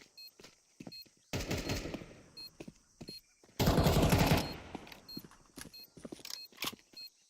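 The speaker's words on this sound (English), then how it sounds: "spams of the rifles all the way around" Rifle gunfire in a competitive Counter-Strike match, with two long, loud sprays of rapid automatic fire separated by scattered single shots and clicks.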